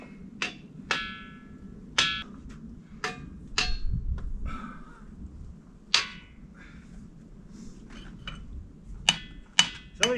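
Hammer blows on the ringing rocks of Montana, a boulder pile where the rocks give off bright metallic, bell-like tones. About a dozen separate strikes land at an irregular pace, each one a sharp ring that decays quickly, with no voices heard.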